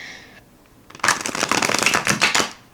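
A tarot deck is riffle-shuffled in a quick, crisp burst of rapid fluttering snaps, close up, after a short high tone and a moment of quiet.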